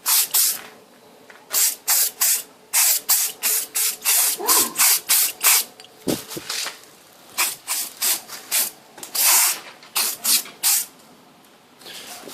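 Rapid, repeated short bursts of spray-on bedliner from an aerosol can coating a rifle stock, a close, sharp hiss pulsing in quick rhythm over several seconds with a few brief gaps and light handling noises between.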